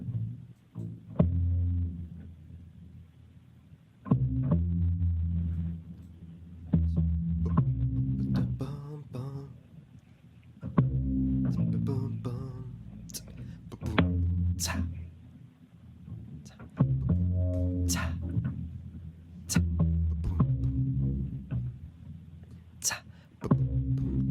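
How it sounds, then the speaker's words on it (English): A first-year upright bassist plays the Rocket League Overtime theme, with deep, resonant notes in rhythmic grooved phrases separated by short pauses, heard at a moderate level. "So here he is playing the theme to Rocket League's Overtime."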